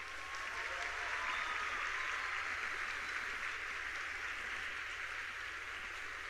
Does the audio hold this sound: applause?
yes